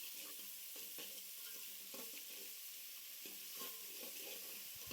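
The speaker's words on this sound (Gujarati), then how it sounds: "ચમચાની મદદથી મિત્રો ડુંગળીને બરાબર મિક્સ કરશું" A spoon stirs green onions frying in hot oil for a Kathiyawadi brinjal bharta, making rhythmic scraping strokes over a constant close sizzle, with no voices.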